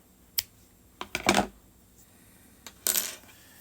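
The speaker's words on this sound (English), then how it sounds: "we're going to take the scissors and trim that off." A few quick, crisp snips of scissors trimming yarn on a crocheted beanie, close up and quiet, in two short clusters with a pause between.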